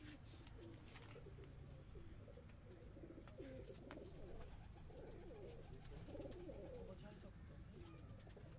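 Pigeons cooing on a rooftop in Karachi, a steady overlapping murmur of low coos throughout with faint background noise and occasional chirps.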